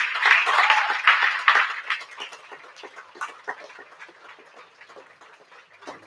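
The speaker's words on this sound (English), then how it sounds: "So let's give a round warm of applause, a warm applause for the EIP staff." Applause from the audience at a 2021 EIP senior recognition ceremony on the Arlington campus, loud dense clapping at first that thins into scattered, fading claps toward the end, with no talking.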